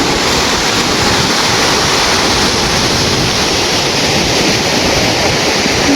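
Forceful water rushes at Vangni in a steady, loud, unbroken roar of broadband noise, with no voices.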